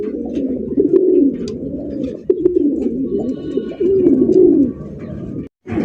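Close king pigeon cooing, several low throaty rolling coos in succession, with faint background clatter.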